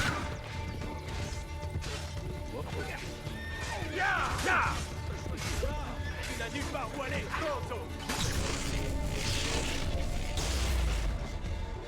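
A horse whinnies loudly in Assassin's Creed Brotherhood amid clattering hooves and crashing combat noises, with a busy, dense soundscape throughout.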